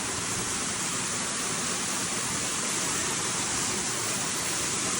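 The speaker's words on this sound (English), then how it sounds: "you'll come across the Hedge Creek Waterfall" Hedge Creek Waterfall near Mt Shasta pours in a steady, dense, unbroken rush of falling water, loud and close, with no voices.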